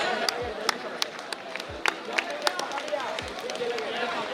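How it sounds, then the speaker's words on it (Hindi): A hall crowd at a National Mathematics Day celebration at Gyan Bhawan, Patna, claps to welcome students from Nawada and Begusarai; scattered, uneven claps stand over a steady murmur of crowd noise and low chatter. "जोरदार तालियों से इनका स्वागत करें।"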